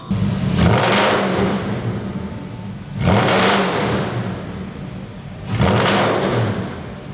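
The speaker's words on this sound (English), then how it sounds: "we have an exhaust on it so it sounds like the beast it is" A 2005 Porsche Cayenne engine with an aftermarket exhaust revs hard three times in a row, each deep roar rising and then falling back, loud and close with no talking.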